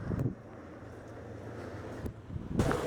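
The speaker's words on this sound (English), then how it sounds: "The weather is quite windy at the moment" Gusty wind at Kat O, Hong Kong, buffets the microphone with low rumbling bursts at the start and end, steadier blowing noise in between.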